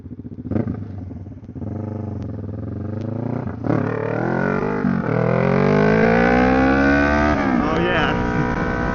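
A Kawasaki Ninja 650 sport bike, just fitted with a repaired throttle (MAP) sensor, accelerates hard on a test ride, its engine note climbing in pitch through successive gears, loud and close to the rider.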